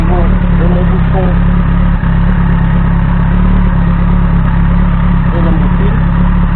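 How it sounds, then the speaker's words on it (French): A Kawasaki ZZR 1400 motorcycle idles steadily right after an oil change, a loud, close, even engine drone with a low hum holding for the whole stretch. "Donc là la moto est démarrée"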